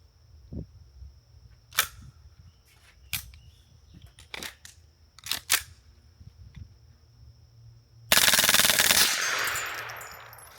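Suppressed rifle fired through a C4 Armory BBC (Bigger Blast Chamber) silencer: several sharp, separated shots, then a sudden loud sustained burst of rapid fire that decays slowly, close and alone.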